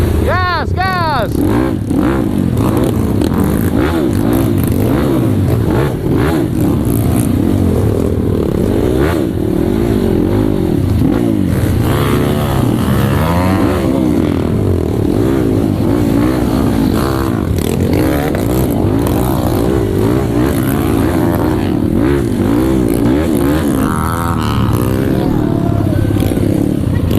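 A trail motorcycle on a rough trail route in Takalar revs hard and accelerates close by, its engine note rising and falling steadily over nearly half a minute with some clattering and scraping along the way.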